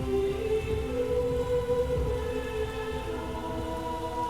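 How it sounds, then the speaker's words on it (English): Steady rain falls in the game Shadow of the Colossus, a continuous even wash of patter layered with low tonal ambience and no voices. "In a perfectly timed rain."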